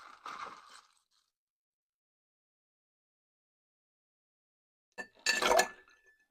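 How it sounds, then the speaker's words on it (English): Ice cubes clink into a mixing glass while a cola Old Fashioned is made: a short rattle at the start, a silent gap, then a louder cluster of clatters near the end. "You're going to add some ice to the mixing glass."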